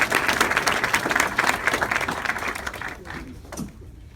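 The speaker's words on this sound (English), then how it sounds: "So can I have a round of applause for your panel?" Audience applause for a panel at a psychotherapy-with-psychedelics discussion: a burst of many hands clapping, loud and dense at first, thinning and fading out toward the end, with a brief voice near the close.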